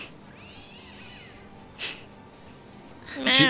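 A kitten wails in Divinity: Original Sin with one long quavering meow, followed by a short breathy burst and then a louder cluster of sound near the end, close and clear.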